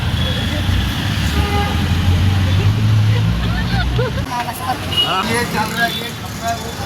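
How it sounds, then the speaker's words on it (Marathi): An auto rickshaw drives through road traffic with a steady, close engine drone and passing vehicle noise, while people talk inside. "माझी मामा रिक्षा चालवत आहे."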